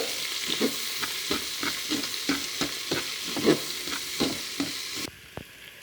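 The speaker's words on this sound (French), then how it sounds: "Maintenant, on met les oignons à revenir. On remue un peu." Chopped onions sizzling in a hot pan for a Flemish beef stew, with a spoon stirring in regular scraping strokes roughly every half second before the sizzle cuts off.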